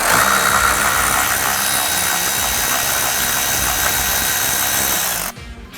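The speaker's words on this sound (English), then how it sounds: "we can use a deep well socket to reach the 10mm bolt located" A deep well socket on a power tool working loose a 10mm bolt inside a recessed opening of a 2023 Ford Super Duty, a loud, steady whirring buzz that runs without a break for about five seconds and then cuts off.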